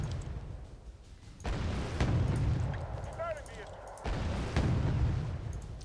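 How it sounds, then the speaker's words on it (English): A Type 21 firing its Vickers gun in the real-time strategy game Wargame Red Dragon, heavy booming bursts and rumbling impacts in repeated waves, with a voice briefly heard. "Type 21 is also engaging with his Vickers."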